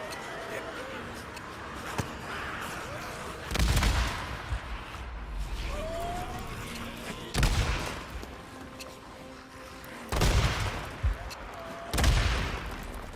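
Grenade blasts and M50 Reising gunfire in the Days Gone video game: several heavy, booming bursts spaced a few seconds apart rise out of a rumbling background, with someone talking between them.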